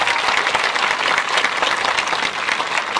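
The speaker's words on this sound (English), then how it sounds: "Big round of applause for you." A graduation audience gives a big round of applause to retiring school staff, a loud, dense, continuous clapping from a large crowd throughout.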